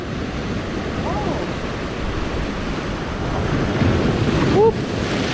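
Ocean waves wash against a rocky cliff shore at sunset, a continuous broad roar of surf with gusty wind buffeting the microphone, swelling slightly louder near the end, with no talking.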